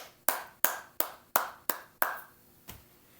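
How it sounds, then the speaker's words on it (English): Six sharp, evenly spaced hand claps ring out close and loud, followed by a seventh softer, later clap, each with a short room decay and no voices. "Give yourself a round of applause."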